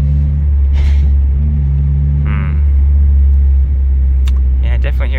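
A Mitsubishi Lancer on adjustable coilovers rolls over a small manhole, giving a steady loud road and engine rumble with a couple of brief thumps from the suspension, plus some faint rattles near the end.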